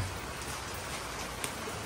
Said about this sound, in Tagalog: Pag ganito pong bumubuhos ang malakas na ulan.